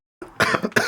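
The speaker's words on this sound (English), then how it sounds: "I'm going to be coughing a lot in the vlogs." Several short, sharp coughs from a person nearby, three bursts in under a second, each a rough throaty blast with a brief gap between them and no talking.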